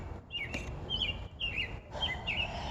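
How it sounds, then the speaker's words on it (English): A bird sings in an oak tree in a garden, short repeated chirping phrases with brief pauses between them, faint over a soft outdoor hiss. "If you hear that bird and you can tell what it is"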